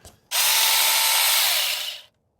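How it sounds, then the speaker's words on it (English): A loud, steady high-pitched whine of a power saw cutting a tree in the desert, running alone for under two seconds with a sharp start and a tapering stop. "Get in here and I can do some sawing"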